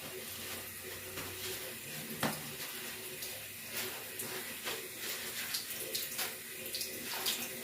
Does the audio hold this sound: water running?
yes